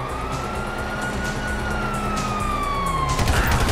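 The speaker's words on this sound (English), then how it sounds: "you hear that? Sirens." Police sirens in the GTA V video game, a wailing siren tone rising and falling steadily over a dense background rumble that swells louder toward the end.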